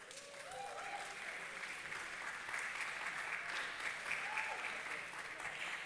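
Applause and cheering from the audience at a bodybuilding competition's men's physique awards, dense steady clapping throughout, with a couple of whoops rising over it and a voice faintly underneath.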